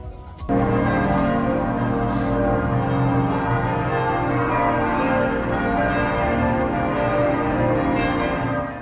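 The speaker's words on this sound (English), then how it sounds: "Those church bells woke me up about an hour ago." Church bells ring steadily in a town on a solo run route from Belgium to Luxembourg, their rich overlapping tones sustained and resonant throughout, moderately loud with no talking.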